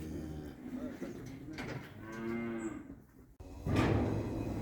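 A stressed cow moos loudly nearby, a long low drawn-out call, with other farm animal sounds and rustling around it.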